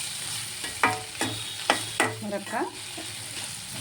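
Bitter gourd frying with chili powder and salt, a low sizzle broken by several sharp spatula scrapes and stirs in the pan, close, with a brief spoken word.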